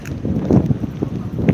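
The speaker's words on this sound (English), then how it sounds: "I'm sorry for the wind, it's super windy today." Strong wind buffets the microphone on a street in Turku's old town, with irregular low rumbling gusts that rise and fall across a short stretch, fairly loud.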